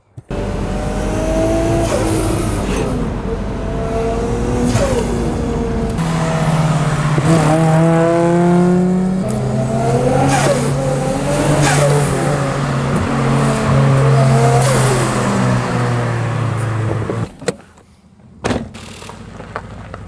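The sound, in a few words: car engine revving while driving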